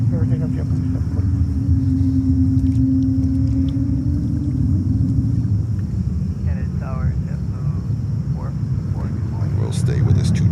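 A jet airliner departs a New York airport runway during UN week, a loud continuous engine rumble and roar filling the whole stretch, with a steady tone early on and tower radio chatter heard over it.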